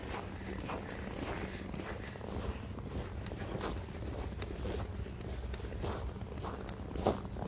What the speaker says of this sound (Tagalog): Yung tunog ng paa talaga.